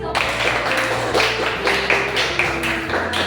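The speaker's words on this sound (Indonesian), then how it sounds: "tepuk tangan dulu buat Putri" Students in a classroom clap for a classmate, a brief burst of rhythmic group clapping close by, with no talking over it.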